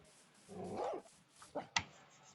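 A dog in the Minecraft video game gives a few short, fairly faint barks, one longer yelp followed by two quick sharp ones, over quiet game background.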